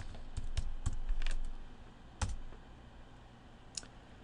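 Keys on a computer keyboard are typed to enter login details for a cloud database server: a short burst of quick clicks, then two isolated keystrokes after a pause, close and fairly quiet with no talk.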